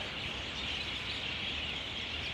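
A crowd of birds chirps busily in a city square in Kokand, Uzbekistan, forming a steady, bright, high twittering wash that stays even and moderately loud throughout.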